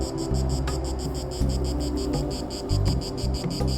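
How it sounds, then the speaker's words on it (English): Tree frogs call on Lokrum Island near Dubrovnik, Croatia, a dense rhythmic pulsing chorus that is loud and continuous, with low background murmur and occasional movement noise beneath it. "Lots of tree frogs on Lokrum Island."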